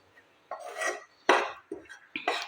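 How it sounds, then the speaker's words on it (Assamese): Rice flour being dry-roasted in a pan over a low flame for rice flour peda: a utensil scrapes and rubs against the pan in four or five short, separate strokes, close and fairly quiet, with no talking. "প্ৰথমতে মই এয়া চাউলৰ গুড়িখিনি ভাজি ল'ম।"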